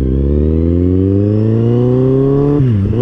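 A loud, heavily modified Kawasaki Z800 motorcycle with a quick shifter revs up close, its exhaust pitch climbing steadily before a quick dip and recovery near the end.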